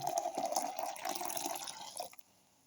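200 ml of water is poured into a blender jar with ground cardamom, a bright, gurgling stream that rises slightly in pitch, then stops abruptly, leaving near silence.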